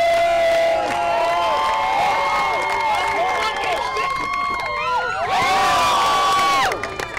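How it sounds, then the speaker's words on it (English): A show audience cheers, whoops and shouts loudly and continuously, with children's voices prominent and many overlapping high-pitched yells swelling near the end before cutting off. "Everybody make some noise"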